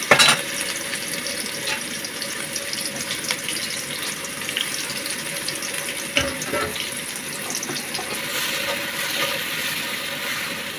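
Chopped onion and garlic frying in ghee for chicken halim, giving a steady broadband sizzle that stays even throughout, with a faint clink or two of a utensil partway in.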